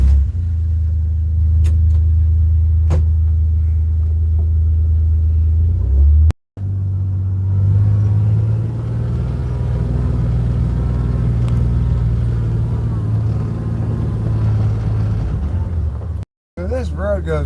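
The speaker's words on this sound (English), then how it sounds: "there's going to be a fair amount of background noise as we're driving back" A car drives along a forest road, its steady low rumble and road noise continuous and close inside the cabin, with a brief dropout and a sharp knock near the end.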